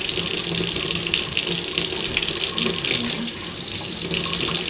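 Steady running tap water splashes over a makeup eye brush being gently rinsed under a sink faucet, a continuous close hiss with no talking.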